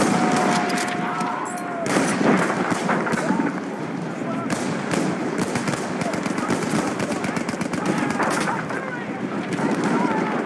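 Enemy machine gun fire in Battlefield 1 mixed into a dense battle soundscape, with rapid bursts of gunfire and explosions running continuously, and voices shouting over the din.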